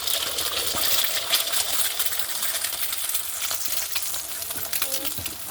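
An egg cracked into hot oil for chow mein sizzles and spatters steadily, a close, bright crackling frying sound that runs throughout with small pops and no talking.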